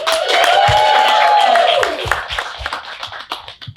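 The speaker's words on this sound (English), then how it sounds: "One other quick round of applause for our panelists." A quick round of applause for panelists at a live HR talk-show taping, clapping under a sustained tone and voices before fading into scattered claps.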